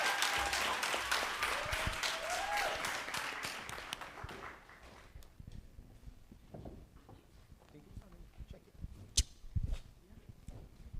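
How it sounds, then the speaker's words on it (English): Audience applause at an education conference, a dense burst of clapping that fills the first few seconds and then thins out into scattered claps and faint room noise. "Please applaud her."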